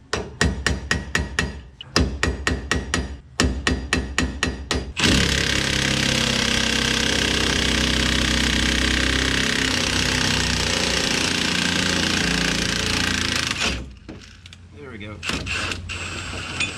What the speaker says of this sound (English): and then I'm gonna pound this ball joint out.